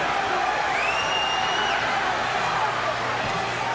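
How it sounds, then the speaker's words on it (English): Wrestling arena crowd during a Ric Flair versus Ricky Steamboat WCW match, a dense, steady roar of cheering fans on their feet, loud and continuous with a whistle-like tone rising through it. "all these fans are on their feet cheering for Ricky the Dragon Steamboat"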